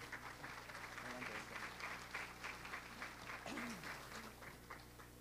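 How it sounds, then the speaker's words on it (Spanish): An audience at a conference applauds the arriving speaker, Dr. Carolina Montoro, with steady moderate clapping that fills the whole stretch, a faint voice briefly audible underneath. "les pido un aplauso, por favor"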